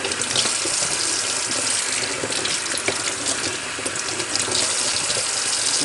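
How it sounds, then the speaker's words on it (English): Tap water runs steadily over sea moss being rinsed in a strainer in a sink, a constant close rushing splash with no talking. "Just go through each piece and drop it into your strainer. Just rinsing, rinsing, rinsing,"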